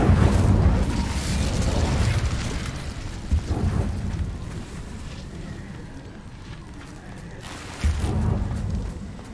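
A fiery whoosh and rumbling burst from the Incendio spell in Hogwarts Legacy, a low roaring blast that swells twice between steadier crackling noise, with no voices over it.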